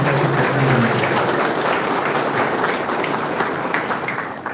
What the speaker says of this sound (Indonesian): Beri aplaus yang meriah untuk Bapak Haji Anies